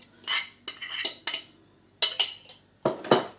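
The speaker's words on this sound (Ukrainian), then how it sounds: "Це розмішую я. Це буде полуничний крем такий." A utensil repeatedly scrapes and clinks against a bowl in uneven bursts, stirring strawberry cream close by, with no talking.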